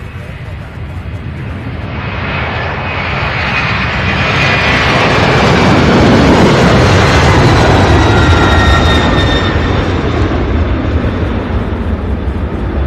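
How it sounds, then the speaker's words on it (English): A FedEx jet takes off at night at Louisville's UPS Worldport, its engine roar building to a loud, broad rumbling swell that holds steady and then eases a little as the aircraft climbs away. "Beautiful takeoff."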